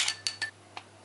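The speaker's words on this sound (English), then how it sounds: "Give it a stir. Being hot, it mixes in almost instantly." A spoon stirs a hot drink in a cup, making a few quick, light metallic clinks spaced apart that ring briefly against the rim and sound close and clear, with no talk.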